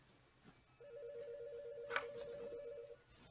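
A telephone rings in the Five Nights at Freddy's video game, a faint, steady electronic trill lasting a couple of seconds against a quiet background hum.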